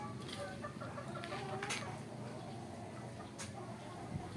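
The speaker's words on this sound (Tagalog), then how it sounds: "Yung mga manok ng kapatid ko po. Yun guys oh. Yan, panabong." Fighting roosters cluck faintly in a neighborhood yard, short scattered calls over a low background hum.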